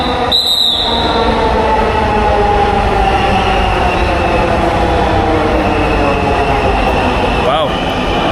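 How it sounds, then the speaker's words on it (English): Metro train in Dhaka, Bangladesh, heard from inside a carriage: a loud, steady rumble and rolling drone with faint wheel squeal and a brief tonal whine near the end, continuous throughout with some background voices. "In Dhaka, Bangladesh, here we go, get in the metro."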